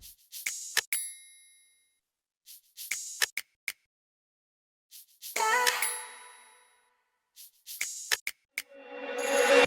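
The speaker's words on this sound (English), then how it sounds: "over here we have a shaker, an open hat, a snap, a perk, a triangle" Sparse 2000s R&B-style beat percussion built from shaker, open hi-hat, snap, perc hits, triangle, vocal chop and a riser, playing in short clustered bursts with gaps, ending on a rising sweep.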